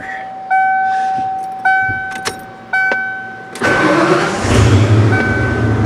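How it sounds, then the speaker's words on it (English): A 1994 Ford F150 4x4 pickup: three loud ignition chimes with the key turning, then the starter cranks and the engine catches and settles into a close, steady idle. "So let's go ahead and start the truck up."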